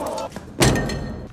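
A pistol fired in a gangster film scene, a single heavy, sharp bang with a short decaying tail after a brief lead-in of quieter sound.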